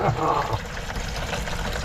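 Water pours steadily from a newly installed pump, a continuous splashing flow that begins a little stronger and holds at an even, moderately close level.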